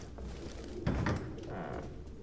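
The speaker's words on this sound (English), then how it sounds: "So he's been taking care of the birds." Pigeons in the video game Detroit Become Human give soft, low cooing in a quiet indoor space, faint, with a brief louder rustle or thump partway through.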